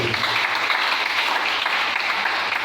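A church congregation applauding the Lord, a steady, dense wash of clapping from many hands that stays loud and even throughout, with a few voices mixed faintly underneath.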